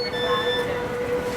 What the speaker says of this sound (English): Finally, people, this is the train.